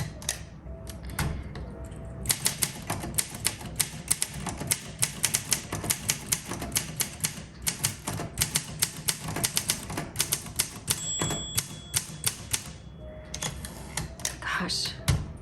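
A 1957 Olympia SM3 manual typewriter in dark green being typed on steadily, with dense, rapid key strikes and occasional carriage bell dings and returns, the clattering close and continuous.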